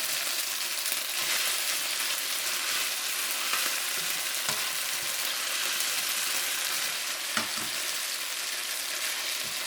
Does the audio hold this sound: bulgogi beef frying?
yes